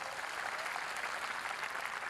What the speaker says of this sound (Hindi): तालियां आप लोगों की थोड़ी सी कमजोर है, जरा एक बार जोरदार बजा दीजिए